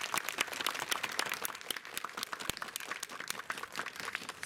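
Sustained audience applause after a dance performance by two classes from a dance studio at a local idol live event, dense steady clapping from a crowd, moderately loud, with no talking.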